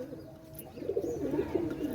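A pigeon coos close by in a low, soft, rolling phrase that swells in the second half, with faint background hiss.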